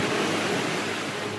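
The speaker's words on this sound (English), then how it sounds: "Giant waves and flooding" Giant storm waves crash during a deadly Northeast storm that brought flooding, a loud, steady wash of roaring surf that fills the whole moment without any voices.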